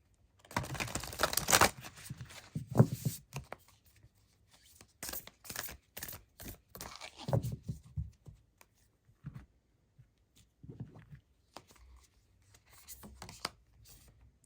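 Oracle cards being shuffled and drawn by hand, producing soft close riffling and sliding bursts that come in short irregular clusters separated by quiet pauses, with no talking.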